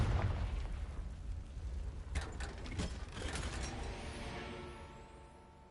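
A Confringo blasting spell in Hogwarts Legacy lands with a loud burst and rumbling explosion, followed by crackling debris and a long fading boom.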